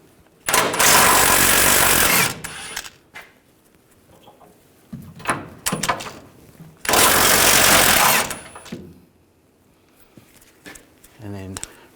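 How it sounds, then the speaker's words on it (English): Two long, loud bursts from a power tool driving an 18mm socket to remove nuts while replacing parking assist sensors on a 2014-2018 GMC Sierra 1500, with clanks and handling noises between them and a voice speaking. "I'm going to use an 18mm socket. We're going to take these two nuts off."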